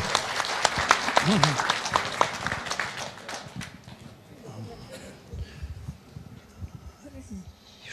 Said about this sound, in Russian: Прошу аплодисменты Владимиру Васильевичу Калитвину.